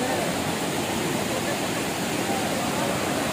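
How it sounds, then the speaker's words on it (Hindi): Tirathgarh waterfall in Bastar roars during the monsoon, a dense, constant broadband rush of heavily flowing water that stays loud and unbroken throughout, with no clear voices over it. "तो आज पानी का बहाव बहुत ही ज़्यादा तेज लग रहा है"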